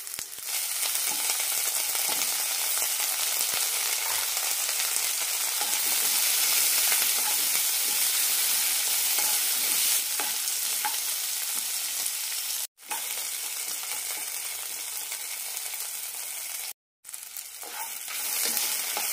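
Shallots and half a tomato sizzling steadily in a pan for a horse gram curry, with soft stirring scrapes throughout and two brief breaks near the end, no talk.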